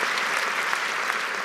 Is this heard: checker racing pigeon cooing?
no